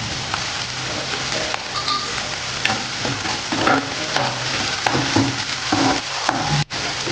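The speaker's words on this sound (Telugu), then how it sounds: "ఈ క్యారెట్ కొంచెం వేగిన తర్వాత మనం ఈ బీన్స్ కూడా వేసేద్దాం." Carrots, beans and peas stir-fry for street-style paneer fried rice, crackling in a steady, close hiss with intermittent spatula taps and scrapes against the pan, and no one talking.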